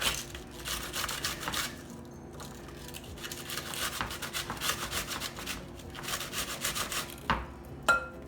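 Cabbage is scraped against a cheap dollar-store grater for coleslaw, a close, steady run of rough rasping strokes with brief pauses between them.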